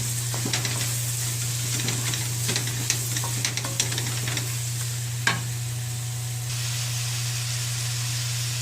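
Onions sizzle and fry in a pan with golden-browned ginger and garlic for a mutton curry, a steady close crackle with occasional stirring scrapes and clinks.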